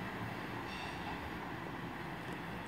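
Steady rolling rumble of a train running through Five Ways station, heading for Manchester Piccadilly, continuous and moderately loud with no clear individual wheel beats.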